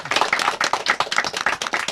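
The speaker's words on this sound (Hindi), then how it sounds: "डैनी साहब के लिए जोरदार ताली बजाइए आप" An audience at a televised music and chat show claps loudly and continuously for an actor, a dense close burst of clapping with no talk.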